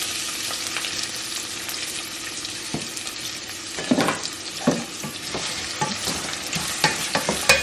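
A whole chopped onion fries in a pan for potato curry, giving a continuous dense sizzle with spatula stirs and scrapes growing busier in the second half, and no voices.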